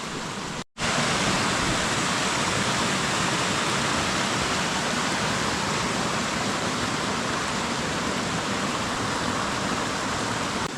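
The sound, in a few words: waterfall of the Hreveburn stream dropping in stages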